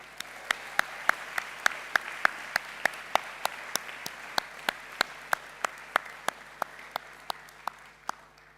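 An audience at a graduation ceremony claps steadily, the sparse, sharp hand claps fairly even in rhythm, at moderate distance, with no voices over them.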